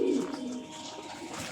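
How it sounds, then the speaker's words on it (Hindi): A pigeon coos softly at a moderate distance in a low, steady murmur over faint background noise. "एक कबूतर बैठा था,"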